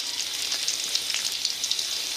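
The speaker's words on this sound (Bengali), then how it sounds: "তারপরে দিয়ে দিলাম কুচিয়ে রাখা রসুনগুলো দিয়ে একটু খুব ভালো করে আমরা ভাজা করে নেব।" Chopped garlic and black cumin frying in oil, making a thin, steady hiss dotted with small crackles, close and even with no voices.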